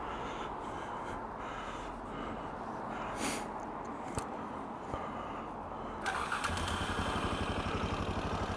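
A KTM 640 LC4 supermoto single-cylinder engine idles steadily nearby, a low thumping drone that gets a little louder and rougher toward the end, with no talking.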